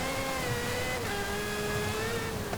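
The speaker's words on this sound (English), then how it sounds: "It's easily one of the loudest cars that we've had on this series." The naturally aspirated engine of a 2022 Aston Martin Valkyrie AMR Pro in the video game Forza Horizon drones steadily at high revs with a rising harmonic whine, loud and continuous throughout, no voices.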